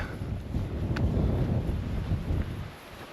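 Wind gusts buffet the microphone on a mountain trail through Kaupō Gap in Haleakalā National Park, a low, rumbling roar that swells and then eases toward the end, with no voices.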